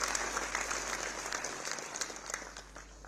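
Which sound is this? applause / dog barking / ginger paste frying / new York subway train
applause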